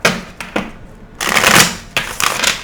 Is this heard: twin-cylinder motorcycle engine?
no